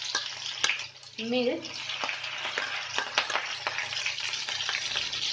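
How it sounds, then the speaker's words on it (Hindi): Garlic frying in hot oil in a wok, a continuous bright sizzle with crackles and stirring scrapes, close and fairly loud, while a voice briefly speaks over it. "ऑयल गर्म हो चुका है, अब हम इसमें ऐड करेंगे लहसुन,"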